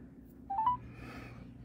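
Telephone dialing tones placed while calling back a scammer: three short rising tone beeps in quick succession, faint and close, with low room hum underneath and no speech.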